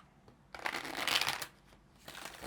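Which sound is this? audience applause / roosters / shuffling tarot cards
shuffling tarot cards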